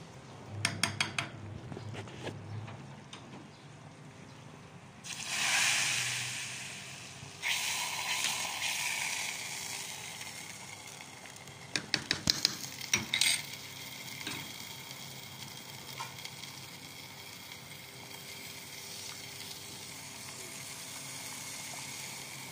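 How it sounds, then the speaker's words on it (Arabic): Garlic frying in hot fat for Egyptian tasha, a broad sizzling hiss that swells suddenly around five seconds in and keeps crackling, with faint clinks of a pan and utensils. "ودي التومه هنطشها معاكم اهي"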